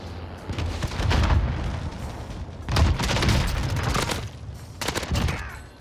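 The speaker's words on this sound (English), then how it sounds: "I also hear a lot of people firing in here." Bursts of automatic gunfire and booming shots from Call of Duty Warzone rattle in three dense volleys with brief lulls between them, loud and continuous like a distant firefight.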